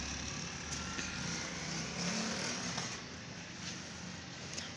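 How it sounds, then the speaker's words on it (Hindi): Steady stream of road traffic passing close to a house beside a main road, cars rumbling continuously with occasional louder passes, moderately loud and broadband throughout, no voices. "बाहर मैन से ना बहुत ज़्यादा शोर होता है गाड़ियों का, गाड़ियाँ बहुत ज़्यादा गुजरती हैं"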